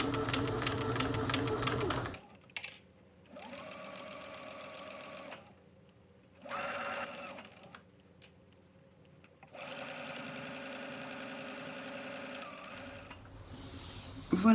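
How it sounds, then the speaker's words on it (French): A domestic sewing machine stitches a small fabric toothbrush pouch in several bursts of steady, rapid whirring, separated by short pauses. One burst is brief, and the longer runs hum evenly at close range. "c'est parti pour la couture"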